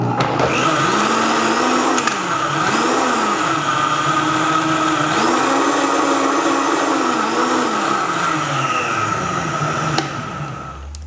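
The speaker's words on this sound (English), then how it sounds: "so now we're gonna blend it." Countertop blender whirring steadily as it mixes coffee with collagen and cacao butter, its motor pitch rising and falling in repeated swells for about ten seconds before cutting off.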